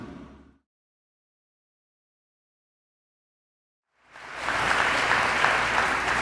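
A large crowd at an LCC morning event bursts into loud, dense applause after a stretch of silence and keeps clapping steadily to the end, with no talking over it.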